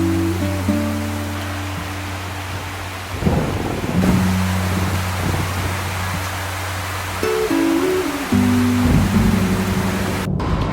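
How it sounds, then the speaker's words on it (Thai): Steady, dense rain hiss at a valley village in Mae Taeng, Chiang Mai, Thailand, fills the whole stretch, with a low rumbling hum underneath and no voices. "ได้ยินเสียงฝนแล้วนะคะ"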